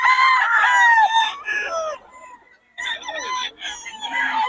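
Chickens and roosters from Pampanga crowing and clucking loudly up close, several overlapping drawn-out crows with a brief lull midway.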